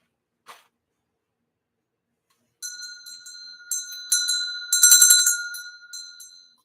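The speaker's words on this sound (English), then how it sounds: "I forgot to ring the bell." A bell rings repeatedly in bright, tonal strikes with sustained ringing overtones, building to a louder cluster before fading, alone after a brief faint rustle near the start.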